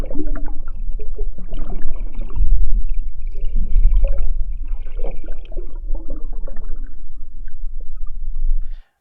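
Underwater bubbles from a hydrophone recording pitched down, giving a deep, muffled, continuous rumble with slow gurgling swells that stays loud throughout and stops abruptly at the end.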